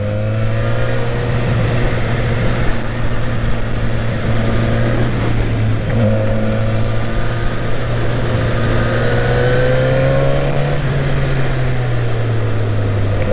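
Suzuki GSX-S1000 motorcycle engine, rated around 150 horsepower, pulls under acceleration with a steady loud drone that climbs slightly in pitch near the end, with no voices.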